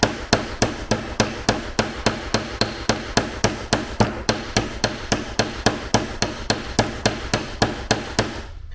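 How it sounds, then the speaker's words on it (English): A ball peen hammer strikes a metal rivet in a steady run of about thirty sharp, evenly spaced metallic blows, close and loud, with no talk. "then I use the ball peen side"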